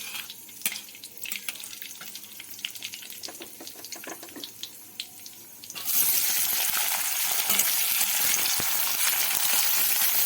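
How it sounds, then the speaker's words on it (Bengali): Chopped onions drop into hot oil already tempered with black cumin, the light crackle of the spices giving way to a loud, steady sizzle that fills the rest of the clip, with no voices. "কালো জিরেটা ভালো করে হালকা ভাজা ভাজা হলে দিয়ে দেব পেঁয়াজ কুচিগুলো"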